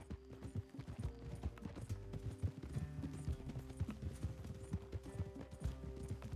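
Horse hooves clip-clop in Red Dead Redemption 2, a steady rapid rhythm of hoof strikes on a road, quiet and continuous, with faint game ambience and no talk.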